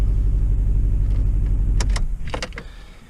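A car engine with a cylinder 4 misfire idles steadily and loudly, then shuts off and its rumble fades away, followed by a few faint clicks and rattles in the quiet.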